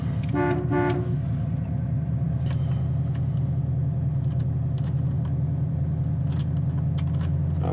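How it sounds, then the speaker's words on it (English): A 1967 Pontiac GTO starts easily and fires right up, settling into a steady, loud low rumbling idle with a throbbing pulse, with a brief horn-like toot at the start. "Start super easy, turn the key, fires right up"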